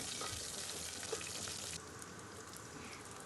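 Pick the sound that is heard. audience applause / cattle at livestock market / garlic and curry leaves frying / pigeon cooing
garlic and curry leaves frying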